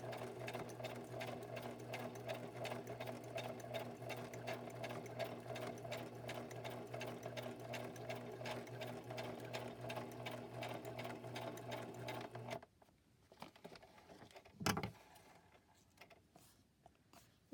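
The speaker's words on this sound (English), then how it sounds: "And now I'm just going to go ahead and sew." Sewing machine zigzag stitching wallpaper, a steady rapid mechanical whirr running for about twelve seconds before stopping abruptly, followed by quiet handling noises and one short sharp snip-like click.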